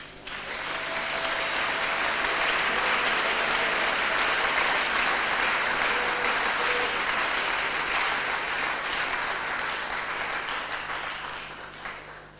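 A church congregation breaks into sustained applause for Christ, a dense wash of many hands clapping that swells quickly, holds steady for several seconds, then tapers off.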